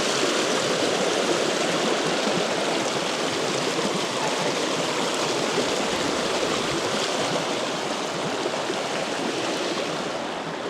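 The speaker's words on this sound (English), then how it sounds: "But that definitely isn't needed in this torrent of water." A rain-swollen stream on rainy Dartmoor rushes in a dense, unbroken roar, loud and close, with no voices throughout.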